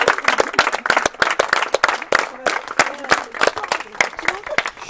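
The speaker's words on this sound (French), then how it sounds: "On peut encore l'applaudir" A small group claps at a baptism, the individual claps sharp and distinct in an irregular rhythm, with a few voices and cheers underneath.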